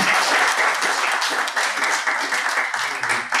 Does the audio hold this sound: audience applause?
yes